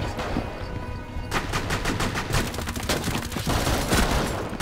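Dense, continuous video-game gunfire in Rainbow Six Siege on the Oregon map during a team deathmatch hostage round, with overlapping rapid bursts and shots rattling loudly throughout.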